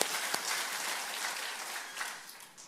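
A church congregation at a Korean Sunday worship service applauds in a steady, dense wash of clapping, heard fairly softly with no voices over it.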